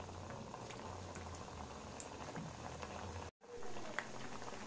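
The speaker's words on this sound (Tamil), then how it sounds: "மிதமான சூட்டில் இதே மாதிரி நம்ம போட்டு பொறுமையாக பொறிச்சு எடுத்துக்கலாம்." Kala gulab jamun, khoya dumplings, bubble and fizz gently in hot oil over moderate heat, a soft continuous crackle heard close up, broken by a brief silent cut.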